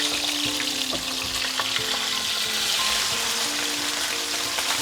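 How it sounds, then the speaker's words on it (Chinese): Fish frying in a pan gives a steady close crackling sizzle with scattered sharp pops, and no voices. "我的鱼煎得很漂亮"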